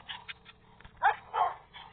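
A dog in Minecraft lets out a string of short, high whimpers and yips, several brief cries with two louder ones partway through, close and clear over a faint background.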